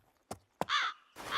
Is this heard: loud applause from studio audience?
no